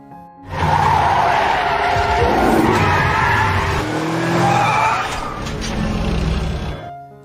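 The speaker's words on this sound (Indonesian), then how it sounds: "Ben pun mempercepat laju mobilnya untuk menghindar. Sayang di depan ada Nasutoceratops yang membuatnya mengerem mendadak." A car brakes suddenly to avoid a dinosaur in an animated scene, its tires skidding and squealing loudly for several seconds with a grinding slide that fades out at the end.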